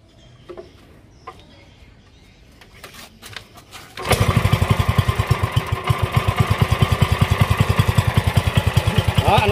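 A Japanese Kawasaki diesel generator and air compressor engine starts after a few quiet seconds of small clicks. It settles into a loud, steady, rapid chugging beat close by.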